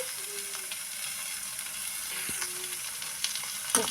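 Cabbage sizzling in a hot pan, a steady hissing fry with faint stirring clicks and a louder knock near the end.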